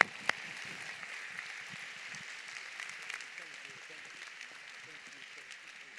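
Audience applause at a public talk, steady clapping from a seated crowd at moderate distance, fairly soft throughout, with a voice speaking faintly over it.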